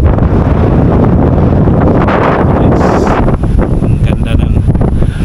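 Strong wind roars and buffets the microphone constantly, a loud rumbling gust that never lets up, with a voice faintly under it.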